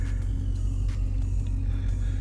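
Steady low engine and road rumble inside a moving car, constant and close with a faint higher hum above it, no talking.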